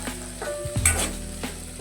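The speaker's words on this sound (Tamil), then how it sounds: "நல்லா வதக்கி விட்டுக்கலாம்" Ingredients for an egg curry sauté in a pan, with a steady hiss and sizzle broken by repeated scraping and stirring strokes from close by, with no voices.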